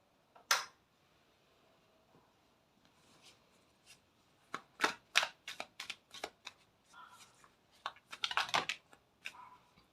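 Tarot cards are shuffled by hand at close range: a single crisp riffle, a pause, then a run of quick papery flicks and slides that grows busier toward the end, with no talk over it.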